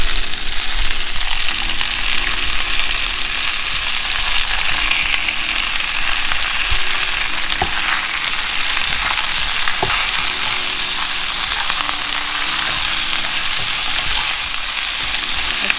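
Chopped onion and vegetables fry over high heat in a hot pan for beef chow fun, a loud continuous dense sizzle with faint rattling stirring clicks throughout, close up and without speech.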